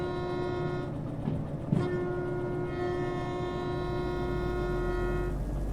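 Train moving through the video game Derail Valley: a steady rumble with sustained horn-like tones that hold for several seconds, fairly close and continuous, with no talk.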